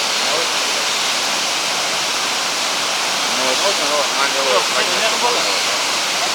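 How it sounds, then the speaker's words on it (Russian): A waterfall in Chichkan, Kyrgyzstan, roars in a loud, constant wash of rushing water, with faint voices murmuring underneath. "Водопад очень классный"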